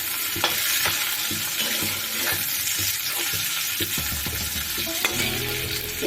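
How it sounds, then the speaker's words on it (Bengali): Browned onion and chopped tomato fry in a pan for a fish-head and pumpkin dish, a close, continuous sizzle with scattered stirring clicks and spatters, with no voices. "পেঁয়াজটা আমার লাল করে ভাজা হয়ে গেছে। এবার একে একে এর মধ্যে সব বাকি জিনিসগুলো দিয়ে দেব। প্রথমে দিয়ে দিলাম টমেটো"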